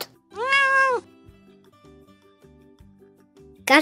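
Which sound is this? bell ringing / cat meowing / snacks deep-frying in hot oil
cat meowing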